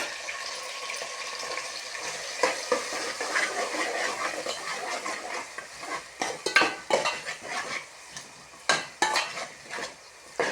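Onion and ginger paste frying in oil in a pan, stirred often, giving a steady sizzle broken by scraping and clinking of a spoon against the pan, fairly close with no talking.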